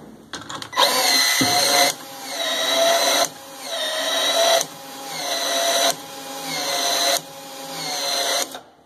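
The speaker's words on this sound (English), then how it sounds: "your expander tool on the pipe" A PEX expander tool works on plastic PEX pipe, a loud close-up mechanical whirring drone in five repeated bursts of about 1.3 seconds each, separated by short gaps.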